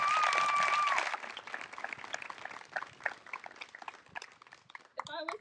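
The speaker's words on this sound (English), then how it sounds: "Give him a round of applause." Applause for a departing teacher at an 8th grade promotion celebration, a dense crowd clapping loudly for about a second before fading into scattered claps and murmuring voices.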